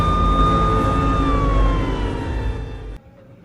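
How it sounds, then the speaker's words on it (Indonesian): A police siren wails steadily with a slowly falling pitch, loud and close, then cuts off abruptly near the end. "diakhiri dengan suara ambulan dari kepolisian"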